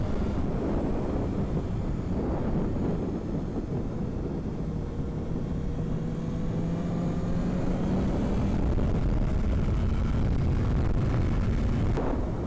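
A BMW S1000R motorcycle is ridden at speed, its engine roar blended with heavy wind rush buffeting the microphone and a slowly shifting engine tone rising and falling.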